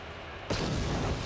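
A grenade goes off in the video game Star Wars: Knights of the Old Republic, a sudden loud blast whose rumbling roar sustains to the end after a brief quieter lead-in.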